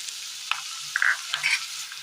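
Green chillies are tossed into onions frying in a pan, producing a steady sizzle with a few quick scrapes and metallic squeaks from stirring.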